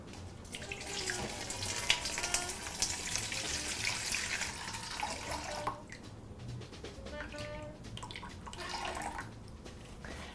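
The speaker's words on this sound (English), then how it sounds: "I'm taking 72-degree water and I'm going to scale out 850" Water at 72 degrees poured and splashing into a mixing bowl while scaling out baguette dough, a steady running splash that thins after about six seconds into softer trickles and drips.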